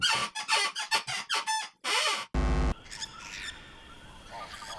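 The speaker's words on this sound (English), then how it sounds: "check out how much my chair can squeak" Repeated squeaks from a chair, a series of sharp creaky bursts in quick succession, then a sustained loud tone and a busier muddle of sound behind.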